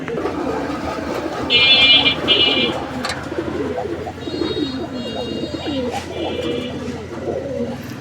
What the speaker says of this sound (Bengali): এগুলো হচ্ছে কালদম কবুতর প্রিয় দর্শক বন্ধুরা কালদম কবুতর যাদের পছন্দ ইন্ডিয়ান কালদম